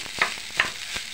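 Fried rice being stirred in a pan of hot yellow oil, a soft continuous sizzle broken by a few sharp scraping strokes of the spatula, close and clear with no voices.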